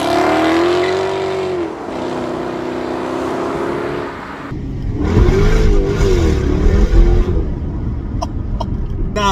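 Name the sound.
Jaguar XKR supercharged 5-litre V8 engine revving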